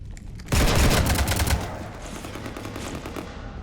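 Rapid automatic gunfire from Mass Effect 3, shooting up a ship, a loud sudden burst of dense shots that trails off into a lingering rumble.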